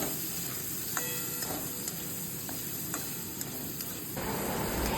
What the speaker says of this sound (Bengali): এরপর পনিরটা অ্যাড করে দেব, দিয়ে তেলে নেড়ে নেব।